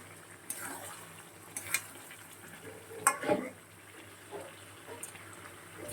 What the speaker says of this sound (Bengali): আরও 5 মিনিটের মতন কষাবো।